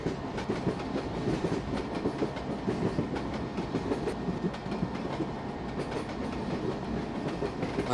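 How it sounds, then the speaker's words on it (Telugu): WAG-5 electric locomotive hauling an Indian Railways passenger train in the Trainz mobile game, a steady rolling rumble with rhythmic clickety-clack of wheels over rail joints, continuous and fairly close, no talk. "మనకిచ్చిన లోకోమోటివ్ అయితే వ్యాగ్ 5 లోకోమోటివ్."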